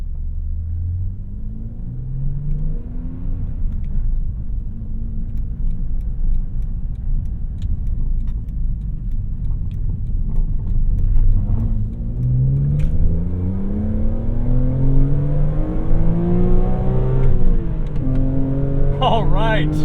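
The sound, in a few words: 2007 BMW Z4 M Coupe straight six engine revving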